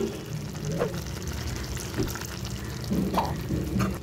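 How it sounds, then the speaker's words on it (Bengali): Water added to a pan of frying rohu fish head sets off a steady sizzle and bubbling, with a few soft scraping knocks from stirring, close and continuous, no voices. "সামান্য একটু জল দিয়ে দিচ্ছি।"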